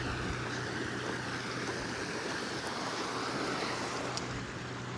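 A river flows through a valley on a wet day near the Arctic Circle, a steady, broadband rushing wash with no breaks, fairly close and even in level, mixed with a little wind buffeting and no voices.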